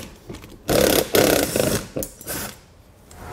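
A power driver spins Torx screws out of a felt wheel well liner on a 2022 Chevrolet, giving loud, close, grinding bursts that rise and fade over a few seconds.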